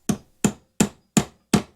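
A hammer strikes five times in a steady, even rhythm, each blow a sharp, loud, close knock that decays quickly, with no voices.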